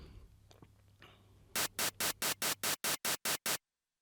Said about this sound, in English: I'm going to play in a short burst of white noise on the offbeat.